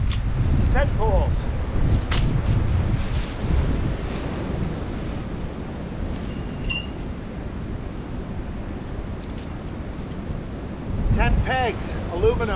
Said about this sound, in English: It's about 50-kilometer-an-hour wind or 30-mile-per-hour wind blowing straight off the river